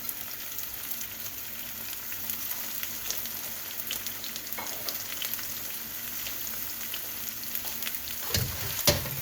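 Zucchini, onion, green onions and palm sugar stir-frying in a pan, a steady close sizzle with faint crackles, ending in a few louder scraping stirs.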